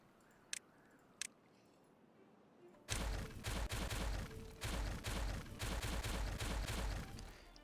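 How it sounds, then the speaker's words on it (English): Explosions in the video game Timberborn: two sharp early pops, then a loud dense run of overlapping blasts and crackling bursts that continues to the end. "And then just explode this area."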